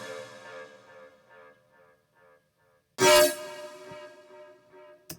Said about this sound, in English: The main bass will sound something like this,